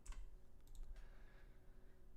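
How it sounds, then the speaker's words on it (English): Quiet typing on a computer keyboard during a live stock trading stream, a few quick clicks at the start and another short burst near the middle, faint and in the background with no voices. "you just hear like a banging keyboard in the background."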